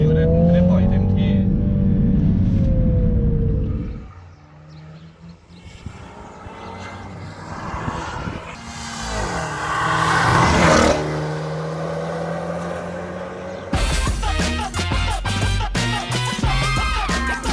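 A MINI Countryman John Cooper Works revs and accelerates while driving, its engine note rising in loud surges and falling as it shifts, heard from inside the car, with a voice at times.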